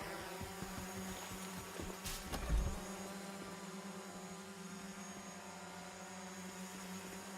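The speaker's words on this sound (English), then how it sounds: "Loads of bees." Bees buzzing in the game PUBG Black Budget, a faint continuous drone holding steady throughout, interrupted once by a brief louder thud near the start, with no talk.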